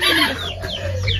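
Serama chickens cluck and squawk at close range, several birds calling in quick overlapping bursts against a constant background hiss.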